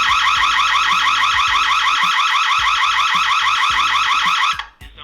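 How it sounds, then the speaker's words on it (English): A loud, shrill electronic alarm pulses rapidly and continuously from a Roku home security monitoring hub, cutting off abruptly near the end, with faint clicks and thuds beneath. "the only thing making the alarm noise is the monitoring hub itself"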